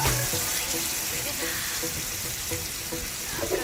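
Coconut cream being poured into a pan over low heat while cooking Southern Thai-style grilled chicken, heard as a steady liquid pour with a sizzling, splashing wash and a faint voice underneath.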